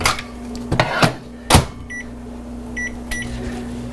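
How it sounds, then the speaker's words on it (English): A microwave oven runs with a steady low hum while a few sharp clunks and knocks, like the door opening and closing, sound close by, followed by two short beeps near the end. "So now I'm going to take this and sneak that part back into the microwave."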